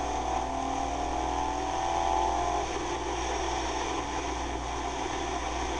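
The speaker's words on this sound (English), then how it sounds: "here's my third gear pull." A Yamaha V-Star 1100 motorcycle engine pulls hard in third gear on a road test, a loud steady drone with a rising whine over continuous wind noise, with no talk.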